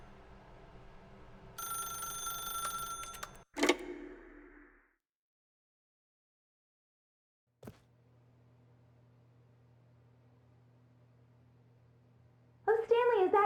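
A telephone rings in The Stanley Parable video game, a burst of bright repeated ringing tones followed by a click, a low steady hum, and another ring starting near the end.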